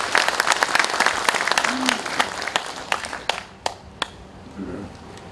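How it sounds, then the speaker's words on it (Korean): Applause at a national general assembly of a Korean police veterans' association breaks out through a hall, dense at first, then thinning into scattered claps that fade within a few seconds. "여러분 따뜻한 박수, 큰 박수 부탁드립니다."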